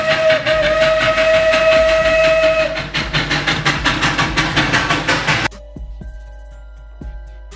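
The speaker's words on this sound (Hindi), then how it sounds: "तभी वहां ट्रेन आ जाता है।" A train pulls into a station with a loud, sustained whistle over rumbling wheels, then a rhythmic clatter of wagons over rail joints that slows and cuts off to quieter station sounds.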